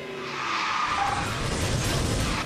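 McLaren race cars launch off the start line in a racing video game: a loud, continuous engine roar with skidding tire noise runs from start to finish.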